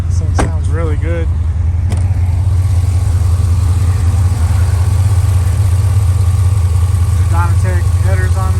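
A 2006 Chevrolet Corvette Z51 with a 6-speed manual, Dynatech headers and an Air Raid intake idles with a steady, loud low rumble throughout, while brief voices and passing traffic sound in the background.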